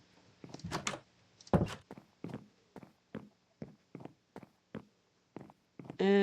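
Wooden doors in the video game Minecraft being shut, a rapid series of about ten sharp knocks and thuds spaced unevenly, loud and close, ending in a brief tonal chime.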